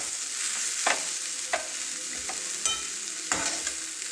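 Finely chopped onion fries in a pan, giving a continuous sizzle with a few distinct spatula scrapes and knocks as it is stirred through, close and fairly loud.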